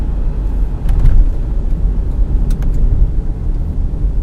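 A Mahindra Scorpio N on Apollo tyres accelerates through the gears, a loud, steady low engine and road rumble inside the cabin with a brief surge in the middle and no talk.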